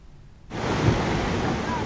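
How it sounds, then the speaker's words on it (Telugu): Rough sea surf pounding the Uppada coast during Cyclone Fengal, a loud, continuous roar of crashing waves with heavy wind rumble that swells in abruptly after a quieter start. "ఉప్పాడలో అలలు ఎగసిపడుతుండటంతో చేపల వేటకు వెళ్లొద్దని మత్స్యకారులకు ముందస్తు హెచ్చరికలు జారీ చేశారు అధికారులు."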